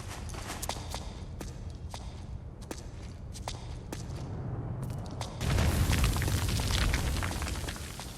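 A Claymore mine goes off in the video game Metal Gear Solid 4: a run of sharp footstep taps leads into a sudden loud blast with a rumbling, sustained roar that fills the last few seconds.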